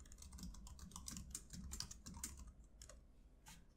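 Quick bursts of typing on a computer keyboard while writing web code, irregular clusters of close, crisp key clicks with short pauses between runs, no talking.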